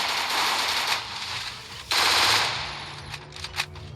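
Rapid automatic gunfire from the Free Fire video game, dense and loud, with bursts of machine-gun fire and a few sharper single shots toward the end.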